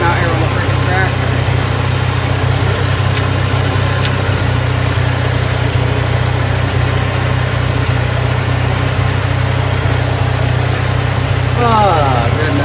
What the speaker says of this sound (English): I'm out here on the freaking tractor